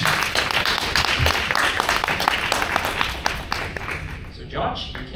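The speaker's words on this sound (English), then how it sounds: "round of applause for George." Members of a speaking club clap for a speaker, a close, lively burst of applause from a small room, dense and uneven, tapering off at the end as voices come in.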